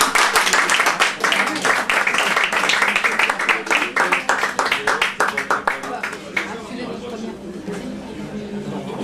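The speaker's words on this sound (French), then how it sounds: "On peut l'applaudir." A live audience claps at a small French cabaret or poetry evening after a performer is introduced, dense applause right up close that thins out and fades toward the end, with some chatter mixed in.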